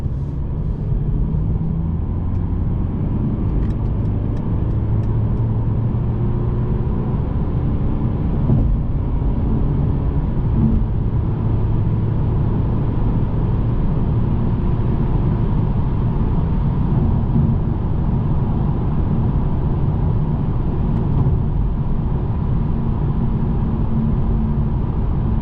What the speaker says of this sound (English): I'm gonna be a little bit quiet just so you can hear some tire noise, cabin noise.